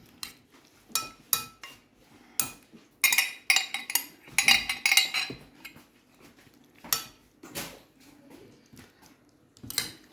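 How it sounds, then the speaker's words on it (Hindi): A spoon stirs and scrapes through cream and banana in a bowl for Lab e Shireen dessert, producing irregular clinks and taps in bursts, some quick and clustered, with short pauses between. "अब हम इसको अच्छी तरह मिक्स कर लेंगे।"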